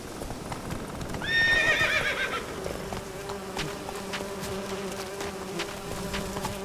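Roach, a horse in The Witcher 3, gallops with steady clip-clop hoofbeats and gives a short whinny early on, while buzzing insects hum in the background and no one speaks.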